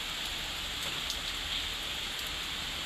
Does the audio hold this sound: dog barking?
no